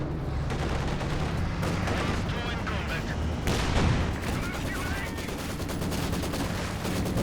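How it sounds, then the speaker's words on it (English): Company of Heroes 2 battle with an incendiary grenade and dense gunfire, continuous rattling fusillades and bursts with a louder blast in the middle. "He throws an incendiary grenade at it."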